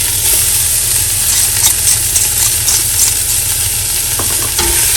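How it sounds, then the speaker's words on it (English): Onions and garlic frying in a pot for Welsh cawl, a loud steady sizzle close by with a low background hum and light stirring clinks. "I'm gonna throw in it my onions and garlic."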